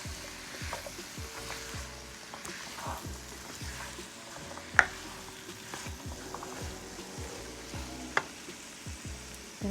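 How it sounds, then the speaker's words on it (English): A sweet potato and broccoli hash with spices fries in a pan while being mixed, giving a steady sizzle under rhythmic stirring and scraping strokes, with a couple of sharper clinks of the utensil, nearby and moderately quiet. "Once you add in the spices,"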